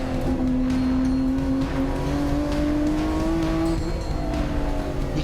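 A Nissan R32 GT-R race car drives by at a steady loud roar, its engine note holding a sustained tone that slowly rises across several seconds, close and continuous with no voices.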